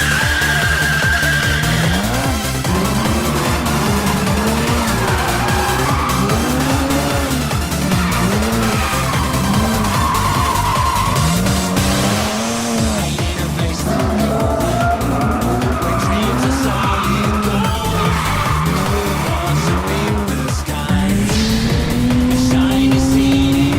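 A swapped BMW E36 laps a race track, its engine loud and close as it revs up and down through gears, with tires squealing and skidding through corners across a continuous run.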